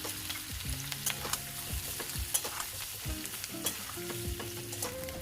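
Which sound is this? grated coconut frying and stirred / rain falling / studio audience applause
grated coconut frying and stirred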